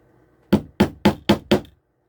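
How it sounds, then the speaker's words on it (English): A small toffee hammer taps model railway track pins into an OO gauge baseboard, five sharp, evenly spaced knocks close by with no talking. "And then get your little toffee hammer."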